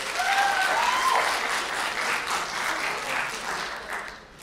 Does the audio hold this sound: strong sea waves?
no